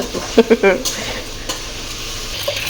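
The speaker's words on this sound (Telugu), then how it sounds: "ఇక్కడైతే చికెన్ అయితే ఫ్రై అవుతున్న అవుతుంది చూడండి" Chicken frying in a pan gives a soft, steady sizzle, with a few quick clanks and scrapes of a utensil near the start and an odd light tap later, no one speaking.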